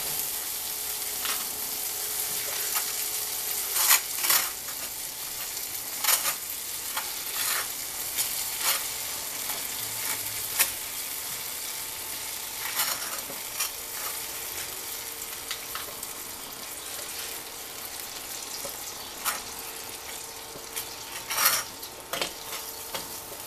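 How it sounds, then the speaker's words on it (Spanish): Bread rolls browning in butter in a frying pan give a steady, moderate sizzle, with a few sharp clinks of utensils against the pan scattered throughout and no voices. "Así damos vuelta y dejamos que se nos dore un poquito con la mantequilla."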